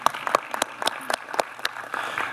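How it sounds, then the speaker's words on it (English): Audience applause at an investment summit for a colleague's award, a scattered round of clapping with distinct individual claps standing out, moderately close and steady. "a big round of applause and congratulations to my colleague Linda"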